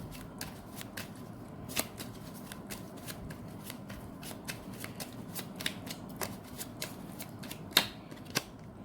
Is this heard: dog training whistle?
no